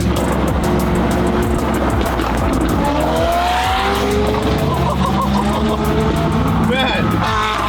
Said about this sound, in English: The one nice thing having a quiet car is you can hear the other cars